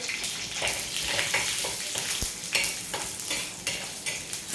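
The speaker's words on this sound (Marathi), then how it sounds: "हे मिश्रण चांगलं आपण परतून घेणार आहोत" Cumin and turmeric crackle and sizzle steadily in hot oil, with occasional stirring scrapes and a few sharp pops throughout.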